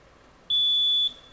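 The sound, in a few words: quiz buzzer ringing in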